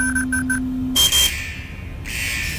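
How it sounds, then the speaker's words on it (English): An alarm goes off in the video game Henry Stickmin: a few quick beeps followed by loud, harsh buzzing blasts that start and stop abruptly. "He set off some sort of alarm"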